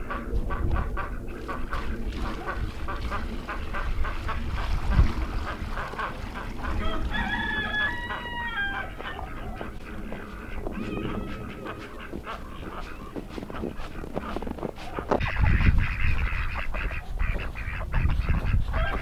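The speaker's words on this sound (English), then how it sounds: "They're even headed over here quacking." Ducks quack as they head over on a frosty morning near a frozen water hydrant, their calls mixing with nearby rooster crowing and clucking of other farmyard fowl under steady outdoor noise.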